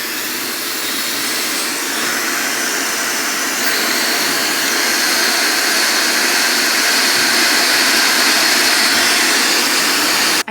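A high-tech blow dryer runs on its highest setting, a loud, steady, close whooshing roar of strong airflow that holds constant throughout and cuts off abruptly at the end.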